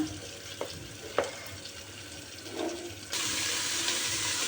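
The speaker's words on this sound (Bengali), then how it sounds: "চালটা ছেড়ে দিব এখন আস্তে আস্তে মশলাগুলি দিতে থাকবো আর চালটাও করতে থাকবো" Rice, ginger and garlic paste and spices frying in a pot for egg khichuri, with a few scraping stir strokes, then a louder steady sizzle in the second half, close and without talk.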